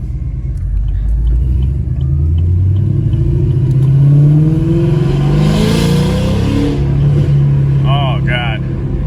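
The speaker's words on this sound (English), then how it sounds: "Dude, that sounds so good with the valves open." 2017 Camaro SS with LT1 V8 and valvetronic exhaust, valves open: a loud, deep rumbling exhaust rising and falling through revs and acceleration, close and continuous, with a voice briefly heard near the end.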